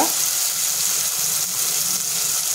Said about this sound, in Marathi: अद्रक, लसूण, मिरची आणि कोथिंबीरची पेस्ट हे पण छान परतून घ्यायचे आपल्याला